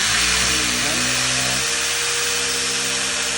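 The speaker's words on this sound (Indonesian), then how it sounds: "Coba tuh tinggal sambungin bor, pasang baut." A steady high-pitched electric drill whirs continuously, loud and close, driving bolts to fit fairing on a Kawasaki Ninja 250FI motorcycle, its pitch dropping partway through as it bears down on a bolt.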